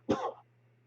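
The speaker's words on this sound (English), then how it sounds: "Damn this fucking cough" A single short, rough cough from a man, close and fairly loud, followed by quiet.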